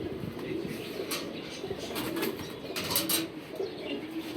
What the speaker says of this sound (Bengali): আর এই যে দেখেন আমি বসায় রাখছি কবুতর